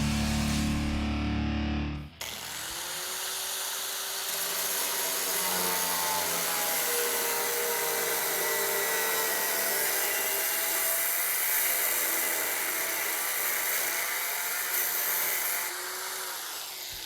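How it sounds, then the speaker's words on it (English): A power cutting tool slices the rusted outer skin off a car fender in a garage, a loud, sustained whining, grinding drone that starts abruptly after a brief lead-in and holds steady until it fades at the end. "Steve just finished cutting off our rusted outer skin of the fender"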